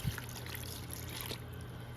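A cup of water pours into a sourdough artisan bread mix, a soft continuous trickle and splash at close range, fairly faint and steady for the full two seconds.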